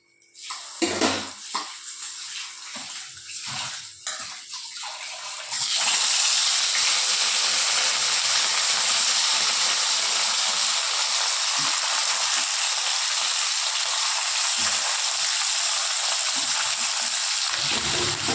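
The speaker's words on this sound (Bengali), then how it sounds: "তেল গরম হয়ে গিয়েছে এবার মাছগুলো এক এক করে দিয়ে দেবো" Pieces of rohu fish dropped one by one into hot oil in a kadai: a few clinks and soft handling sounds, then an abrupt loud, steady hiss and crackle of frying that continues evenly to the end.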